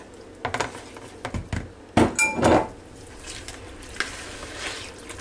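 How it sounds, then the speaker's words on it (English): A spoon stirs green bean casserole ingredients, including drained green beans, together in a dish, making a few bursts of scraping and clinking that are loudest in the middle. "And just stir that all together."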